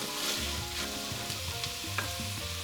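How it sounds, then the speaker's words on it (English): Chopped carrots and celery sizzle steadily in a pot, with scraping, clattering stirring strokes on top of the constant fry. "add 1 cup of chopped celery. If you have the green bits of the celery, please add that in too, and stir all of this well"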